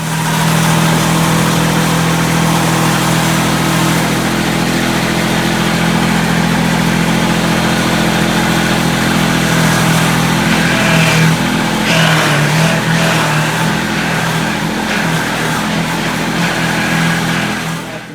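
Toro Dingo TX 575 compact utility loader with its engine running steadily as the tracked machine drives, a loud, continuous mid-pitched drone that holds nearly unchanged throughout with no talking.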